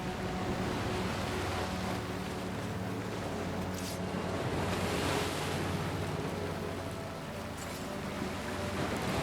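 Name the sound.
ocean waves from the video game Banishers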